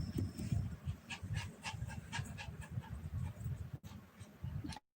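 A dog pants rapidly and steadily right beside the microphone, quick rhythmic huffs continuing for several seconds with faint sounds in the background.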